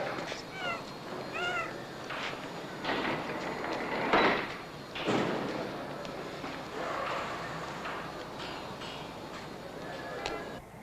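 A stray cat meows several times in quick succession, fairly close and clear, followed by shuffling and background noise with a faint voice.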